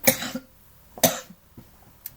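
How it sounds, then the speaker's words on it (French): A woman coughs twice in short, sharp bursts about a second apart, close and fairly loud, followed by a faint throat sound, with quiet pauses between. "Pardon, j'ai encore cette toux."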